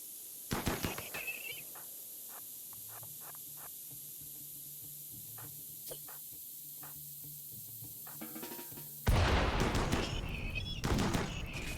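Gunfire in RimWorld: a few sharp cracks open the stretch, then a string of quieter, evenly spaced shots, before a louder burst of shooting near the end.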